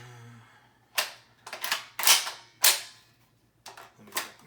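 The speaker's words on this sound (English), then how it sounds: "get that mag back out" Metallic clacks and rattles from handling a Century Arms C93 rifle as its magazine is pulled out, five or six sharp, close mechanical bursts spaced irregularly over a faint low hum, with no voices.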